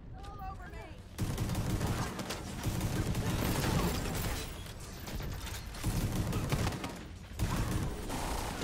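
Rapid shotgun fire from The Division 2, a dense, loud barrage of blasts running almost continuously after a brief quiet opening, with a couple of short gaps between bursts.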